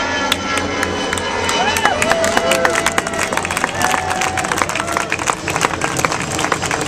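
A crowd at an outdoor philanthropy announcement claps and murmurs loudly for several seconds, with an airplane droning and shifting overhead and voices mixed in.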